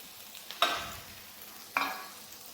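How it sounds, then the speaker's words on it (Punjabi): Garlic and chili frying in a pan, heard as a quiet low sizzle punctuated by two sharp stirring strokes about a second apart, each tailing off into a brief hiss. "ਪਹਿਲਾਂ ਸਭ ਤੋਂ ਲਸਣ ਹੀ ਭੁੰਨਣਾ ਹੈ"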